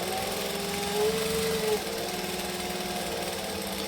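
A sewing machine runs steadily up close, stitching a shirt seam with a continuous mechanical hum and faint rhythmic whir, briefly rising in pitch partway through before settling back.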